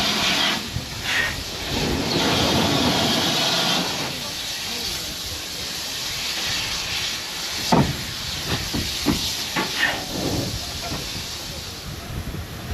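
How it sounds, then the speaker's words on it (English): Steam locomotive number 3850 coupling up at a heritage railway station during a steam festival, a loud hiss of escaping steam at first that fades, followed by a few sharp clanks and knocks. "the locomotive is going to take us back down, number 3850, coupling up now"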